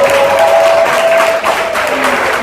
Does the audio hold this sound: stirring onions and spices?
no